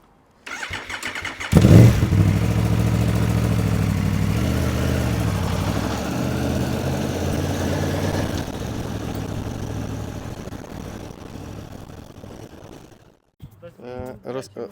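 A motorcycle engine starts with a sharp burst, then idles steadily at a low rumble, revving slightly before cutting off near the end.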